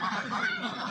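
Domestic laying ducks on a small egg farm quack and honk in a close, continuous cluster of nasal calls, overlapping loudly for about a second.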